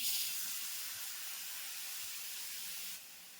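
Water poured onto a hot black iron tava griddle gives a loud, steady steam hiss from the first moment, then drops off slightly near the end.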